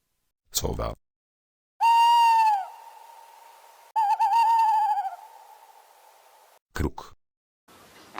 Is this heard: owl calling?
yes